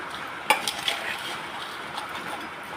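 A spoon stirs a masala mixture of onion, tomato, salt, chili powder and garam masala, with an initial sharp scrape, then soft intermittent clinks and a low sizzling hiss.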